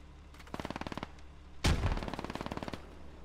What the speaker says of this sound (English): I'm getting pinned down by this MG.